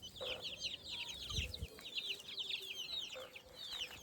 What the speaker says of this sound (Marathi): हे सगळे कोंबड्या आले बघा आपल्या पीठ दिले